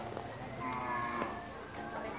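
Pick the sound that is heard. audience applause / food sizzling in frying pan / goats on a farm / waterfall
goats on a farm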